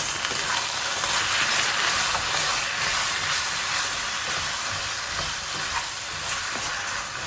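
Potatoes with ground cumin, chili powder and coriander are stirred in a hot pan, making a loud, steady sizzle with faint scraping and occasional crackles.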